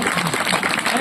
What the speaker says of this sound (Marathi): टाळी वाजवतो